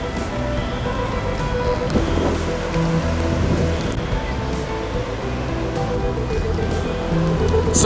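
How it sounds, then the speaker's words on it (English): Heavy rain pours steadily during historic flooding with tidal surge, a dense continuous wash of water noise and rushing runoff, with some voices faintly mixed in. "The tidal flooding is combining with very heavy rainfall to create catastrophic flooding conditions."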